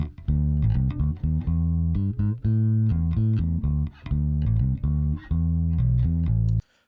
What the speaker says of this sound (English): So just a little typical bass line,